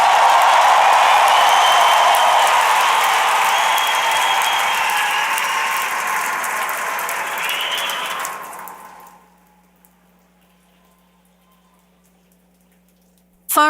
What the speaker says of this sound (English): Won't you cheer one more time?